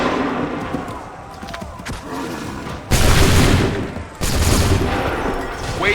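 Musket volleys crash out in Assassin's Creed 3, with two loud, broad bursts of massed gunfire following a stretch of battlefield noise and shouting.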